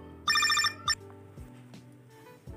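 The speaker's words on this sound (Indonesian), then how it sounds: "Oh, ada telepon." A telephone rings with one short burst of rapid bell trills, followed by a single brief second burst, against a quiet indoor background with faint clicks and hum.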